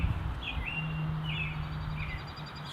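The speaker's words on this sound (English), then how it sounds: "Probably hear the birds and whatnot" Birds chirp outdoors after a thunderstorm, a few short high tweets repeating at a moderate distance over a low steady background rumble, with no one speaking.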